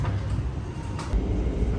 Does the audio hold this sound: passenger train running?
yes